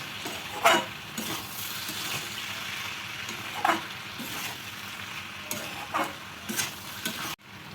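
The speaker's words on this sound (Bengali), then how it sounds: "এখন আমি সবজিটা নাড়াচাড়া করে দিচ্ছি, অনেকটাই মজে গেছে" A spoon stirs a dried fish and vegetable curry in a pan, scraping at a slow, irregular pace of a few strokes over a steady soft sizzle, close by and with no talking.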